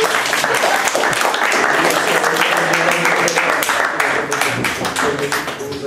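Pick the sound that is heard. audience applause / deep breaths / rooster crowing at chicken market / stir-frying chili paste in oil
audience applause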